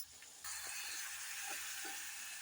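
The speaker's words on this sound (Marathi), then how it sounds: "आता तेलामध्ये टोमॅटो टाकून घेते." Tomatoes tossed into hot oil in a home kitchen set off a sudden loud, steady sizzle that holds for the rest of the short span, with a few faint stirring knocks underneath.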